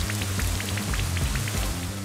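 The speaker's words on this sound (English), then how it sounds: "Here comes a Rain Dance." The Rain Dance move's rain sound effect from the Pokemon Brilliant Diamond video game, a soft steady patter of falling drops over low, droning game music.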